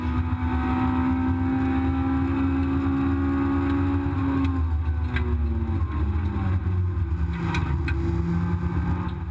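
A racing car's engine at Brands Hatch runs at very high rpm near 10,000, a loud sustained howl heard from on board that shifts pitch as gears change, with no talking.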